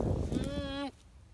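A single sheep bleats nearby, a short wavering call over a background of low noise.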